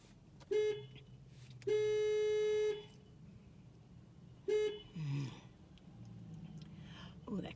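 Three sharp car horn honks sound near a passing Kirby trash truck, one short, one held for about a second, then another short toot, with a person talking softly and traffic noise in between.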